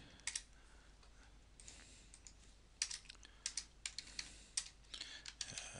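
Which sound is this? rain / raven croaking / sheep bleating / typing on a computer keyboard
typing on a computer keyboard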